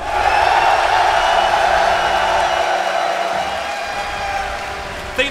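A large esports arena crowd at The International Dota 2 championship roars and cheers steadily for LGD and Na'Vi, with a dense, continuous wall of noise that fades slightly toward the end.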